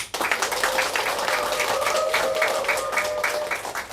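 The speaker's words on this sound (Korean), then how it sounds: "그 열화 같은 그 박수, 네, 좋습니다." An audience at a business presentation claps steadily throughout, a dense, continuous round of applause that starts abruptly and stays even and fairly loud.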